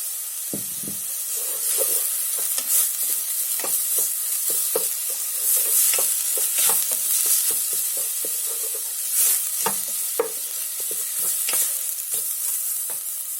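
Prahok fish paste stir-fried in a hot pan for a Cambodian pork rib sour soup, with steady close sizzling and frying hiss broken by repeated sharp scrapes and taps of a utensil stirring, and no talk.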